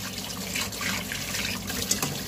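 Tap water runs steadily into a sink while freshly bought katla fish is washed, a close continuous splashing with small irregular spatters and no talk.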